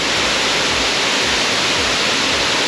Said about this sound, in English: the louder the sound of the falls becomes